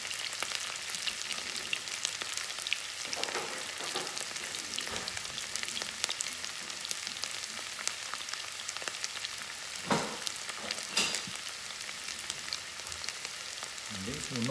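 Leftover cooked potatoes shallow-fry in a pan with a steady, close hiss and crackle, and brief scraping stirs break through the sizzle now and then.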